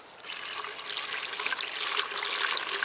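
Water pours steadily into a wicking container being filled at an allotment, a continuous close trickling splash with no talk over it.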